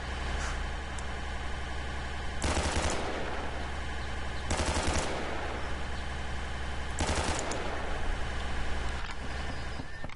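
Bursts of machine-gun fire in the combat game Red Alliance Phase 2, loud and close, come in three long rattling volleys over a steady vehicle engine drone.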